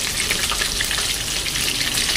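Chicken pieces coated in cornstarch fry in hot oil, giving a steady, dense crackling sizzle that holds evenly from start to finish with no voices.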